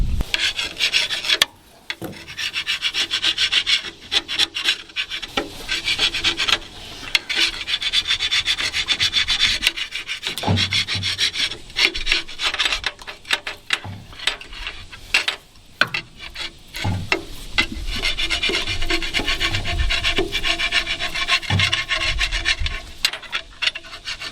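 A scraper rasps and rubs hard against metal on a Mack diesel fuel pump, loud repeated strokes in an uneven rhythm with brief pauses, close up and with no talk.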